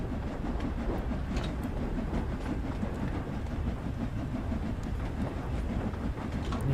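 Steam locomotive in Train Sim World 2 accelerating uphill, a steady loud rumble of wheels and rail clatter with continuous chuffing texture, no voices over it.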